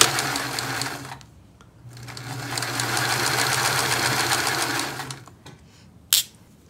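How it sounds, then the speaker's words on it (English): A sewing machine stitches through layers of wool, flannel and interfacing for a coat. It whirs briefly, pauses, then runs in a longer steady mechanical rattle before stopping, followed by a single sharp click. "this sewing machine has no problem going through all of these layers"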